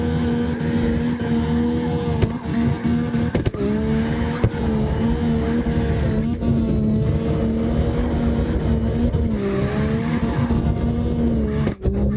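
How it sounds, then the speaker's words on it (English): A Honda NSX drifting in the CarX Drift Racing online game: a loud, continuous high-revving engine note rising and falling with throttle, with brief tire-squeal and shift breaks throughout, no voices. "Mike's pushing that NSX"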